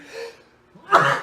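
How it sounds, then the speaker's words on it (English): A single sharp human sneeze bursts out close and loud after a brief quiet inhale, ending abruptly. "That was a sneeze coming at you hot from my lungs and my chest"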